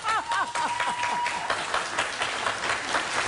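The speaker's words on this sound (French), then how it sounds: "Ça s'applaudit." Applause from a studio audience during a live TV show, a steady wash of many hands clapping close by, with a short whistle or cheer near the start.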